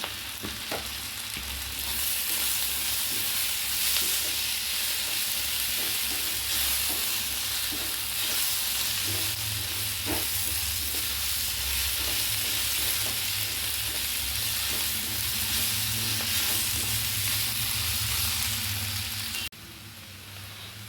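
Pepper liver fry sizzles steadily in coconut oil in a pan, a dense continuous frying hiss with occasional soft stirring clicks, close and loud, with no voices.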